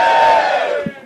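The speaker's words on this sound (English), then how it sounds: "What the fuck are you booing for?" A comedy club crowd lets out a loud, sustained collective 'boo' that holds steady and then fades out over about a second, with a short thump near the end.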